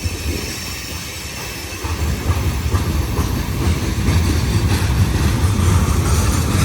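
A CSX freight train rolls through a three-track railroad crossing near Hamilton Depot, wheels rumbling and clattering loudly with a faint squeal, growing louder and steady over several seconds.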